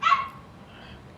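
A single sharp dog bark, close and fairly loud, followed by a short quiet tail with no talking.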